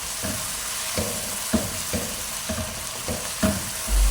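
Mutton for nihari frying in ghee and spice paste in a pan, stirred by hand: steady close sizzle with rhythmic scraping strokes about every second.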